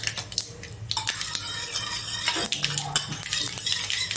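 A metal spoon stirs curd in a small bowl, producing quick, close scraping and clinking strokes in an irregular but continuous rhythm, with no talk.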